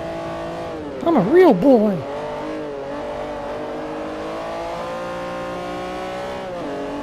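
A car engine in Forza Motorsport 4 hums steadily while someone talks and briefly does a wavering, warbling imitation of revving, before the engine drone carries on alone.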